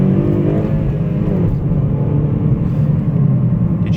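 A 2014 Honda Civic Si sedan with a 2.4-litre naturally aspirated VTEC engine revs hard from inside the cabin, its loud, continuous drone rising in pitch, with no talking.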